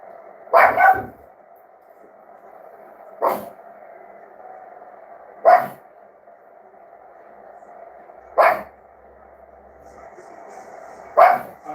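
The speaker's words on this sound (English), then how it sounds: "Our dog is going crazy." A dog barks in loud single bursts about every two to three seconds, five in all, over a steady hum of a televised football game.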